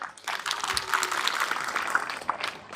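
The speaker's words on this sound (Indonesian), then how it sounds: "Tepuk tangan buat semuanya." Broad, steady crowd applause at a Ramadan afternoon religious lecture, many hands clapping together in a dense wash of sound that continues throughout.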